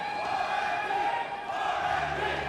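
A large esports arena crowd at the PUBG Mobile Global Championship Grand Finals cheers and chants, a loud, sustained roar with rhythmic swells throughout.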